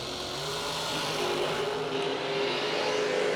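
Drag racing cars running down the strip at a big-money bracket race, heard as a continuous distant engine roar with a sustained drone and no pauses.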